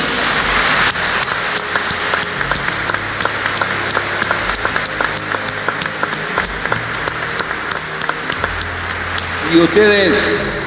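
A business forum audience applauds for Parrado in loud, crackling applause that fills the room at length, with a voice speaking over it.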